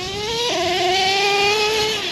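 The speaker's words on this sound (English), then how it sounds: "I love the sound of nitro, the smell, the smoke it puts out, and it's not too loud" A nitro-powered Traxxas T-Maxx RC truck engine revs steadily at a high, buzzing pitch, stepping up sharply about halfway through and then holding a loud, sustained whine close by.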